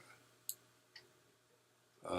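Two sharp computer mouse clicks, about half a second apart, sound close and quiet in a still room before a voice starts speaking.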